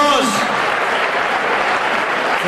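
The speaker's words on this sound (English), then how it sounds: "big round of applause" Loud, sustained applause from a banquet audience at an anniversary gala, following a performance by a group of sopranos, a dense even roar of many hands clapping continuously from start to end.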